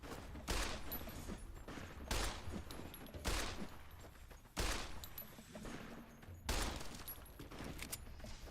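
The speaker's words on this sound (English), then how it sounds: "Who's shooting?" Gunfire in Fallout: New Vegas, heavy shots landing at regular intervals about a second apart, each a sharp loud crack followed by a short decay over a constant background rumble.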